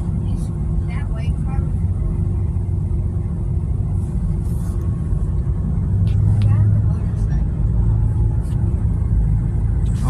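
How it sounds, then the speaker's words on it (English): Low, steady engine rumble aboard a double car ferry carrying two rows of vehicles on each side as it pulls away, droning continuously at close range with faint higher noises above. "We're just on this double car ferry"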